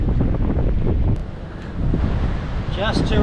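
Strong wind gusting across a Danish beach, roaring and buffeting the microphone continuously and loudly, briefly easing around the middle, with surf faintly underneath.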